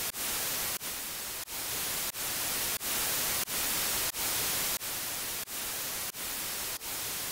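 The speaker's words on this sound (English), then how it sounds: "now we're hearing the white noise" Steady broadband white noise hiss in a Bitwig audio ducking setup, loud and continuous, briefly interrupted by a series of regular short dropouts roughly every two-thirds of a second.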